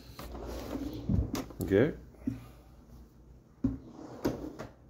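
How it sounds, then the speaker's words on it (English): Drawers in a Montana hotel room slide open and shut with several sharp wooden knocks and scraping slides spaced across the moment, and a voice speaks briefly. "Here you have drawers. Three, to be exact."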